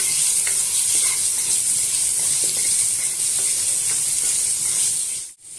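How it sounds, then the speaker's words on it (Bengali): Potatoes frying in oil with turmeric and salt give a loud, steady sizzle throughout, with faint stirring taps, before the sound drops away abruptly near the end. "এরপর হলুদ লবণ দিয়ে আলুটাকে ভেজে নিচ্ছি"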